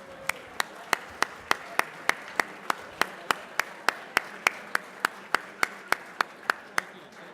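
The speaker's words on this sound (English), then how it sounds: "Give them another round of applause." Audience at a tribute dinner clapping for the silver sponsors, a steady run of evenly spaced sharp claps at a quick, regular beat, moderately loud, with no voices over it.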